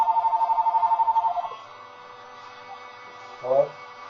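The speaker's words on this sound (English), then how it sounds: "I have to grab the phone." A telephone rings close by with a fast pulsing electronic trill that stops after about a second and a half, followed by quiet room tone and a brief voice.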